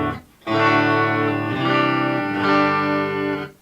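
An electric guitar with dual rail humbucker pickups plays through a 1965 Fender Twin Reverb with its reverb turned off. Three strummed chords ring out in turn, each sustaining fully before the next, loud and alone.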